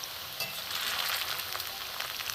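Puffed rice pantua balls fry in a pan of hot oil, giving a steady soft sizzle with small crackling bursts, fairly quiet and with nobody talking.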